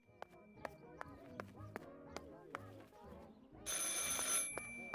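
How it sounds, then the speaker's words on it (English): A telephone rings repeatedly in the horror video game Martha Is Dead, sharp evenly spaced rings against a quiet background, ending in a brief burst of bright noise. "Phone call."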